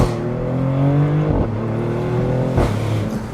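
A Maserati GranCabrio Trofeo convertible pulls away from a takeoff at part throttle, its engine note rising steadily and loudly close by, with brief dips where it shifts gears before climbing again.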